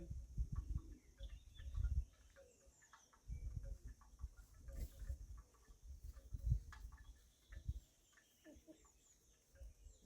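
Brahma hens cluck softly and intermittently nearby, in a quiet space with low rustling and occasional faint calls.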